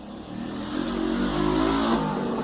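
A motorcycle engine revs up nearby, its tone climbing and swelling in loudness before easing slightly. It runs alone with no talking.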